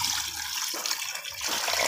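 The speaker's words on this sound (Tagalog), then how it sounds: "Lagyan natin ng tubig." Water pours into a stew pot of pork leg and jackfruit with a close, continuous splashing rush, briefly shifting in tone midway, without talk.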